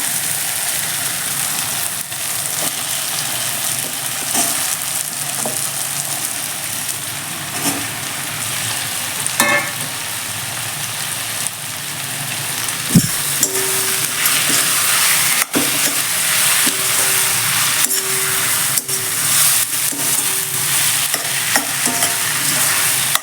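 Steady sizzling and crackling from mushrooms frying in a pan, with occasional stirring scrapes, continuous and fairly close, no talking.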